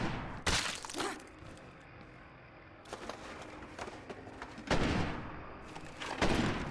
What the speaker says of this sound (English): A lot of gunshots today.